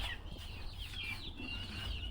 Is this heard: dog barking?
no